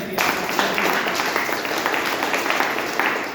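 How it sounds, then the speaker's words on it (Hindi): An audience at a motivational event gives loud applause, steady dense clapping from a crowd heard throughout with no pauses. "आप सभी लोगों के लिए एक बार जोरदार तालियां किया जाए।"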